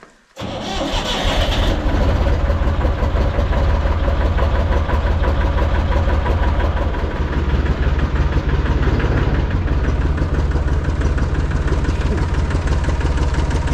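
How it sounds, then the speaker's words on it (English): A Massey Ferguson 245 tractor engine with a power steering fluid leak starts up and then runs steadily and loud, a continuous low diesel rumble with a rapid knocking beat that fills the whole stretch with no talk over it. "get it down the shop, get it ready to spread fertilize."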